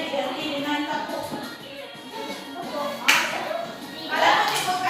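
Classroom students play a counting game in which claps replace certain numbers. Children's voices call out while a few short bursts of group clapping break in, loud and close.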